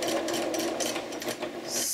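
A sewing machine stitches a bib apron, its motor running in a fast, steady, close whir with slight shifts in pace as the fabric is turned, and no one speaking.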